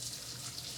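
Pasta water pours from a pot into a sink, a steady, close rushing splash for under a second.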